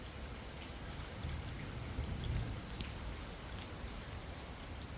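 Heavy downpour in Melbourne falls on a parked car, a steady dense wash of rain that swells briefly in the middle, with no voices.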